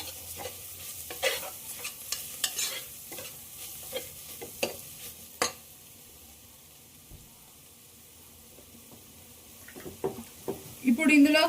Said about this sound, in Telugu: ఇవన్నీ కూడాను కొంచెం ఒక నిమిషం పాటు ఫ్రై చేసుకుంటే మంచిగా మసాలా ఫ్రై అయిపోతుంది